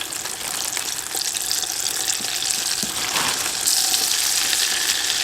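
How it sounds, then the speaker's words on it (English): Deer hamburger meat frying in a fryer gives a steady, close hiss of sizzling oil with soft crackles, growing slightly brighter and louder toward the end, with no voices. "Hamburger is in the fryer"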